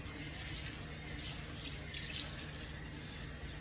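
Water from a kitchen sink sprayer runs steadily into a sink while a garbage disposal is being cleaned, a continuous close hiss and splash with no talking.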